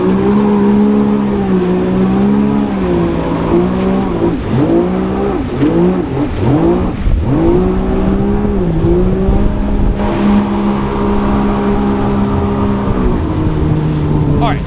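Yamaha Jet Blaster Pro jet ski engine revving hard during tricks on the water, a loud close whine that surges and dips repeatedly mid-clip, holding a steady drone before and after.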